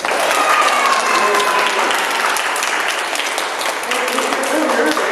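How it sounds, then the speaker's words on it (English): Sustained applause from a crowd at a primary school assembly, steady and loud throughout, with some voices mixed into the clapping. "Let's give those guys another round of applause"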